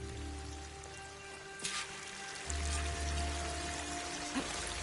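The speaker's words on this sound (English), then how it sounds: "The waterfall must be coming from somewhere." A waterfall in the Horizon Forbidden West video game gives off a steady rushing, rain-like wash of water that runs the whole time, with a low rumble that swells partway through and a couple of brief game effects on top.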